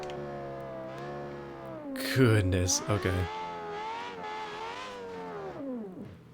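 Loud, broken car engine in the BeamNG driving game, a strained harmonic drone that rises and falls in pitch with a rough burst in the middle, while someone talks over it.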